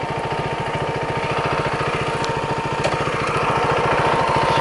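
Small single-cylinder adventure motorcycle engine running on nearly empty fuel after a stall, a steady rapid putter that stays close and loud throughout with a faint whine above.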